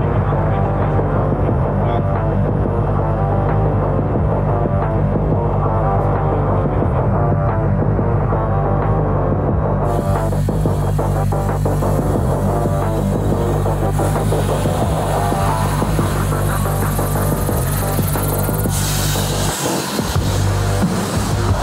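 Helicopter engine and rotor heard from inside or close by, a loud continuous droning hum with steady low throbbing throughout, the pitch and hiss rising slightly later on.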